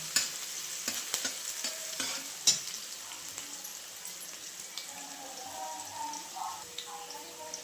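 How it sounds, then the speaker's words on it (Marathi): Green chilies sautéing in a pan, a faint sizzle broken by repeated light scrapes and clicks of a stirring spoon, quieter toward the end. "मिरची परतली चांगली आता बटाटा टाकतो"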